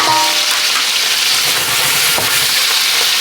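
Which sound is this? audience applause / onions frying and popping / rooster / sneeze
onions frying and popping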